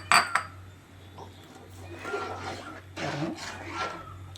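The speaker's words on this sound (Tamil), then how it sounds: "இந்த கடலை மாவு கரைச்சி சேர்க்கவுமே என்ன ஆகுன்னா கைவிடாமல் கிளறி விட்டுக்கிட்டே இருக்கணும்" A spoon scrapes and stirs a thickening potato masala with gram flour batter in a pan, with a couple of sharp clinks against the metal early on, then soft, uneven rubbing strokes, close up and without talk.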